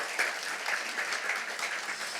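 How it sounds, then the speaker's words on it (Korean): Audience at a lecture hall gives a short round of applause, a soft, even crackle of many hands heard at a moderate distance, steady and unbroken. "우리 유지수 총재님께 우리 박수로 한번 나눠주시기 바랍니다"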